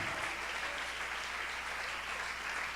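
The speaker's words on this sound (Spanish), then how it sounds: "¿Qué tal si le damos un aplauso a Él en esta hora?" A church congregation applauds together, a steady, dense wash of clapping hands that fills the room evenly from start to end with no voices over it.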